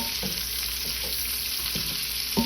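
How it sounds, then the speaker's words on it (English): Spicy sausages fry in bacon grease in a pan, giving a steady, close sizzle and crackle with a few soft scrapes and taps from stirring. "And you let them fry with this bacon grease."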